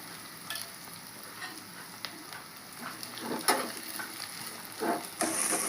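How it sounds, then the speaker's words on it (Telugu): Onion pieces frying in a little oil, a soft steady sizzle with occasional stirring scrapes and louder bursts of crackle as the pieces are moved around the pan. "ఈ ఉల్లిగడ్డ ముక్కలు ఎక్కువ మెత్తగా కావాల్సిన అవసరం లేదు కొద్దిగా ఆయిల్లో ఈ విధంగా ఫ్రై అయితే సరిపోతుంది"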